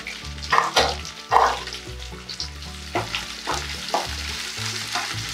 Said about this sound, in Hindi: प्याज अच्छी तरह भुन गई